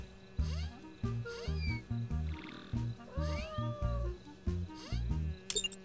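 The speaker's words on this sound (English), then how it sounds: "It's a wild cat!" A wild cat in an animated cartoon meows repeatedly in short, rising and falling cries over a pulsing low background beat, close and fairly loud.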